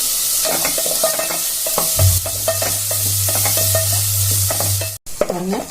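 Onion, broken dried red chillies and crushed garlic sauté in a pan for paruppu sambar, a loud steady sizzle with stirring and a low hum running underneath for part of the time.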